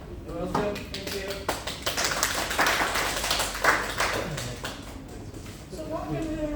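Scattered clapping builds into a short burst of applause from a small group at a masterclass, with voices talking over it before and after.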